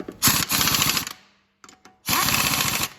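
An impact wrench fitted with a blue torque stick tightens lug nuts in two loud, close bursts of rapid hammering, each about a second long. A short quiet gap with faint clicks separates them.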